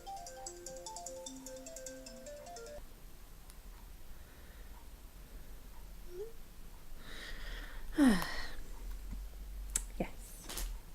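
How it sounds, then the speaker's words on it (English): A mobile phone ringtone plays near the start as a melodic pattern of repeated electronic tones for about three seconds, then stops, leaving quiet room noise and some faint rustling and clicks. "See, that's my phone."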